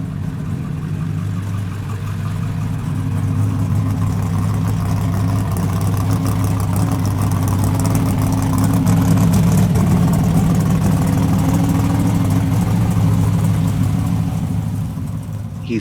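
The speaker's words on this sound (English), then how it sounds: "The video shows Pooh driving the blue G body, and he's being guided into the shop" A blue G-body car idles and creeps into a shop, its steady low engine rumble holding close and loud throughout with slight revving swells.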